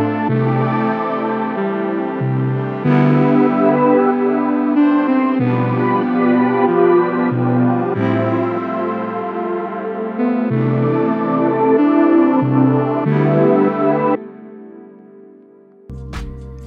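A synth patch built in Serum, shaped with EQ, reverb and other effects, plays sustained harmonic chords in repeating phrases, loud and alone, fading briefly near the end before a final hit.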